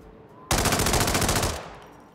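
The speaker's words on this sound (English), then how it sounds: "There's also the Tac-4 AR and its Mark II variant," Tac-4 AR assault rifle from the Hitman video game firing a fast, loud automatic burst of about a second, with evenly spaced rapid shots that end abruptly and leave a short fading tail.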